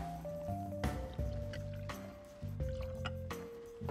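Grey Goose Le Citron vodka is poured into a glass packed nearly to the brim with ice, a soft liquid trickle mixed in beneath steady, louder background music.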